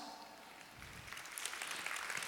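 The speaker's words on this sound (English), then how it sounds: "Could we give these a big Moscow round of applause?" Audience applause for healthy members asked to stand at a talk in Moscow, a steady broadband wash of clapping that builds slightly louder midway and continues to the end.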